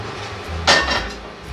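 A single metallic clank as a pan is lifted off a cooktop after pizza cooked in it began burning, short and close over a quiet room.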